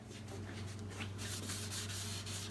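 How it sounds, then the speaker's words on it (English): Cloth rag wiping all-in-one stain sealer across the top of an old 1940 Zenith wooden radio cabinet, a soft steady rubbing hiss that grows brighter and louder partway through, with no talking. "Starting to put some stain on the top of the cabinet here."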